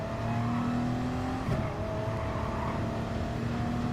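A race car in Gran Turismo Sport powers out of a hairpin with a loud, sustained engine tone climbing steadily under hard throttle, a brief shift blip around midway, then continuing to rev with no talking.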